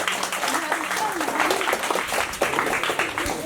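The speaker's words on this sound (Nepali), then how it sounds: "एकचोटि जोरदारले ताली बजाइदिनु होला" An audience at a Bhanu Jayanti celebration held by school alumni in Nepal breaks into steady, dense applause that runs the whole time, with a voice talking over the clapping.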